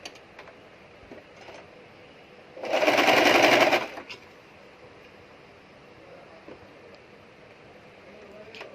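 A sewing machine stitches a princess-cut nighty in one steady, fairly loud burst of about a second, then falls silent against a quiet room background.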